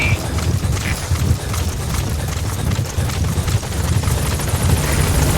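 A helicopter arriving at a landing zone in Metal Gear Solid V gives off a steady, loud, close rotor thump and whine. The rhythmic chopping pulses continue throughout without a break.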